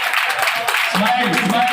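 An audience at a retirement function for transport staff claps loudly, a dense burst of applause that runs under a speaking voice and some tonal background sound throughout.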